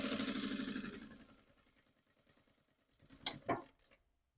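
A sewing machine back-stitches the seam of a dog bandana, its fast rhythmic needle chatter fading out, followed by a few close clicks and knocks as it stops.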